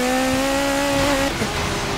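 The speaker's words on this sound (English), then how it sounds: "these turbos take so long to spool" Turbocharged race car in Forza Motorsport 7 holding a loud, steady engine drone with a rising tonal whine that drops off partway through, close and alone without voices.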